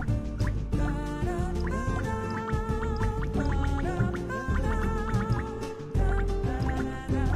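Water being eaten in the video game Tasty Planet: bubbly, gurgling and dripping effects repeat in quick bursts over a busy musical game soundtrack.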